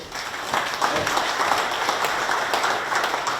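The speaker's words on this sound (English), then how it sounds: "Can we give a round of applause," Audience at a dairy industry conference morning session breaks into sustained applause, a dense, even wash of many hands clapping at moderate loudness throughout.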